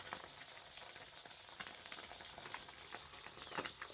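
Small crappie fish sizzle and crackle in a hot pan, a steady quiet frying hiss with scattered pops and spits.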